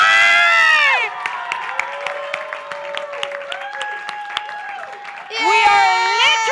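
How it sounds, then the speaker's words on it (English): Audience at a live comedy show at Caveat in New York applauds and cheers, loud sustained clapping with whoops and shouts, framed by a host's voice at the start and end. "Huge round of applause again for Seann Cantatore!"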